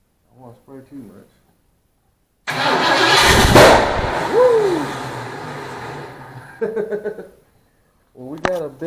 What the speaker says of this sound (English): we got a big backfire